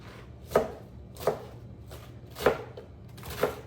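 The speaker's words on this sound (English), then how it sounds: "Chop up your lettuce however you're feeling it." Lettuce being chopped on a board: four distinct knife thumps spaced about a second apart, close and fairly crisp, with no talk.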